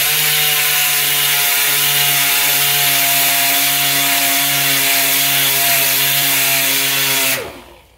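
Rotary polishing pad working over automotive clear coat using the 3M sand and polish system, a steady droning hum with stable tones held evenly for about seven seconds before it winds down and stops, loud and close with no talking.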